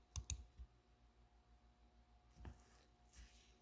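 A computer mouse clicks twice in quick succession, close and crisp, followed by a couple of softer, isolated clicks in an otherwise quiet setting.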